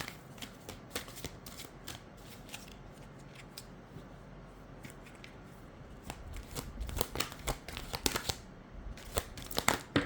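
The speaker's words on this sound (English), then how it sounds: "I'm just going to pull out a card here." A deck of oracle cards being shuffled by hand, soft riffling and snapping bursts coming in irregular clusters, close but quiet, with a few pauses between flurries and no speech.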